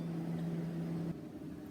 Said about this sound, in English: I do have my lunch in the microwave, so do excuse the noise.